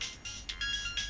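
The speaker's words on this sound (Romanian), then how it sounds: "Telefonul a mai sunat odată și pe urmă a tăcut." Mobile phone ringtone sounding in short repeated electronic tone bursts, steady and moderately loud over faint background noise, no voices.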